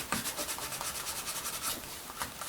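A small dauber rubs sealer over a leather knife sheath for a Buck 119, producing quick rhythmic brushing strokes, soft and close, about a dozen in steady succession.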